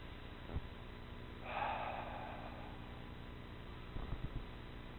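Soft breath sounds during alignment exercises: a quiet snort-like inhale near the start, a longer airy exhale, then a few short breaths, faint and close.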